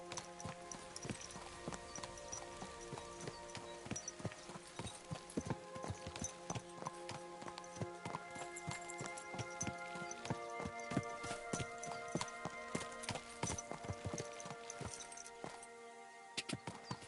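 Horses walking on a hard surface with clip-clop hooves, a busy irregular stream of close, sharp hoof knocks over a tonal background hum, continuing steadily throughout.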